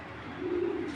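Racer pigeons give one short, low, throaty coo at close range, soft and rounded, rising slightly then fading within a second over faint loft background.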